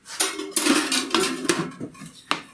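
A spoon clinks and scrapes against a bowl while butter is mixed into eggs and oatmeal, in several quick, close, irregular strokes.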